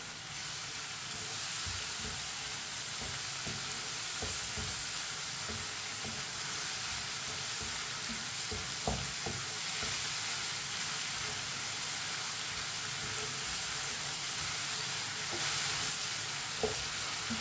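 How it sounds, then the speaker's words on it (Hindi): Shredded cabbage frying in a pan for lauki sabzi, a steady close sizzle and hiss with occasional stirring scrapes, running alone without talk throughout. "पत्ता गोभी को 1 मिनट के लिए पका लेंगे"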